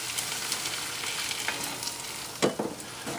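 Tomatoes fry for empanada filling in a pan, giving a steady close sizzle with a few louder stirring scrapes near the end, no voices.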